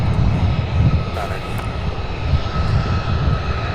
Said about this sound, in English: we're about to have that United Express 3591 heading to Newark